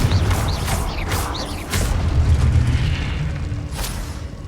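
A Confringo fire-blast spell in the Hogwarts Legacy video game erupts in a loud, booming explosion that rumbles on in a dense roar, with short whooshing bursts over the top and no talk.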